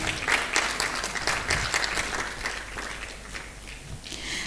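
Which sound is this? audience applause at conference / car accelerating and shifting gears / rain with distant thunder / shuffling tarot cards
audience applause at conference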